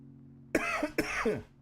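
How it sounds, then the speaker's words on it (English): Two sharp, close coughs in quick succession, each a harsh burst followed by a short raspy tail, over faint background hum. "I promise I'll try to stop coughing into the microphone"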